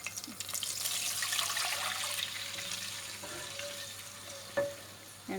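About 400 ml of water poured into a cooking pot while making a carrot zarda rice dessert, a steady splashing hiss that fades out, with a small clink near the end.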